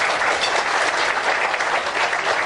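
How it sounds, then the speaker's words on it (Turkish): An audience at a political rally claps steadily for a mayoral candidate being introduced to the podium, a dense, sustained wash of applause with no gaps. "alkışlarımızla Mehmet Toptaş'ı kürsüye arz ediyoruz"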